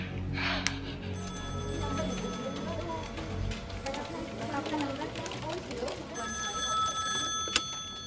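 A telephone rings in two bursts, one early and one near the end, with voices and background noise in between.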